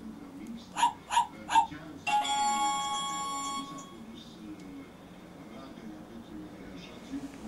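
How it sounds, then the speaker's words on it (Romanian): A singing toy dog plays its song: a few quick electronic yips, then a bright tinny melody lasting a couple of seconds, with people talking softly around it indoors. "Hai să-l mai punem o dată pe cățel și mai cânte."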